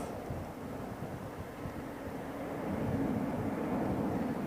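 A Boeing 747 takes off at London Heathrow Airport, heard from afar as a broad, rumbling jet roar that swells slightly toward the end, with no voices over it.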